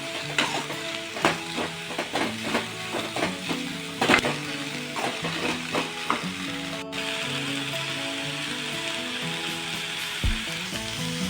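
Sliced onions fry with ginger and garlic in a pan, a steady moderate sizzle broken by repeated scraping and stirring knocks.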